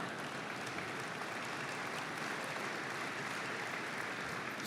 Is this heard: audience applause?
yes